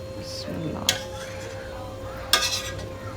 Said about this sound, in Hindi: चूल्हा हम बंद करते हैं और एक दफ़ा इनको हिलाते हैं ज़रा